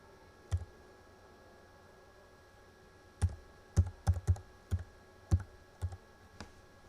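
A phone number typed on a computer keyboard: one isolated key click, a pause, then a quick burst of about eight crisp clicks, close and clear over quiet background hiss.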